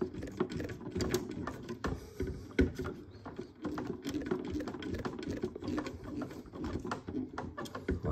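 Screw being driven into a metal part of a Nissan Skyline GT-R model kit from Fast & Furious, producing close, rapid ticking and clicking scrapes in a busy, continuous run without any talk.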